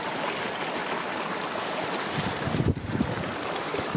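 Broad, steady rushing water from a stream beside a wild camp in heavy rain, mixed with rain and wind noise, with a brief dip and a few rustling knocks partway through.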